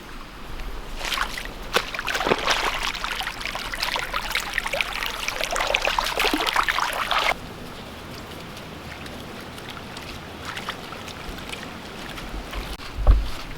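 Rainwater rushes along an old creek ditch beside a farm after heavy rain, a loud, steady splashing flow that drops away abruptly about halfway and leaves a quieter trickle.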